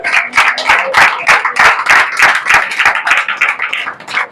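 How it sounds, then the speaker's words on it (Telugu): A crowd claps together in a steady, fast rhythm, loud and continuous for several seconds with no voices over it. "చప్పట్లు పెట్టండి."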